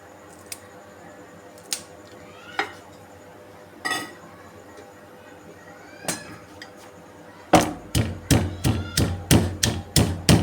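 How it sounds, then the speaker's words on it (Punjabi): Green chilies, garlic and ginger are pounded in a mortar for a chana sabji, with scattered sharp knocks early on, then a quick run of rhythmic, close, loud strikes toward the end. "ਹਰੀ ਮਿਰਚ ਨੂੰ ਤੁਸੀਂ ਇਸ ਤਰ੍ਹਾਂ ਤੋੜ ਕੇ ਪਾ ਦਿਓ ਤੇ ਇਹਨੂੰ ਧਿਆਨ ਨਾਲ ਕੁੱਟਣਾ ਹੈ"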